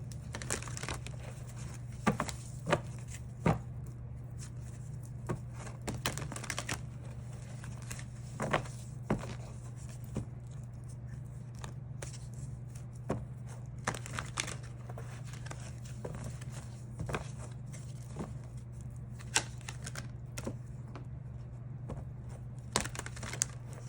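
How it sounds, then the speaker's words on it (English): Soft crinkling and riffling of tarot cards being shuffled, with sharp intermittent snaps and taps over a steady low hum, no talking. "Let's shuffle."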